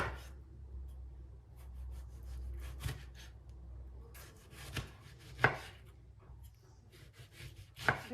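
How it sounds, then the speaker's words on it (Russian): A knife slicing tomatoes into rings on a board gives a series of short, close chopping taps at an uneven pace, some louder strokes standing out, with no talking. "Помидоры режу колечками."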